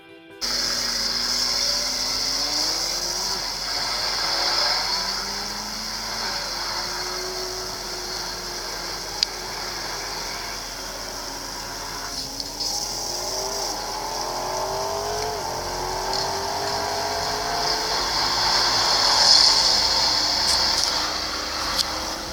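A McLaren P1 GTR track supercar's engine rises through a series of climbing revs, each gear pull ending in a shift, steady and fairly loud from start to finish with no voices.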